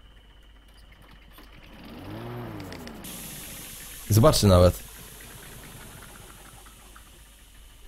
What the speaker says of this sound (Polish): O dziwo, silnik dalej chodzi i tak chyba powinno być zresztą.